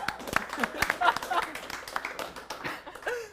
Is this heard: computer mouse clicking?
no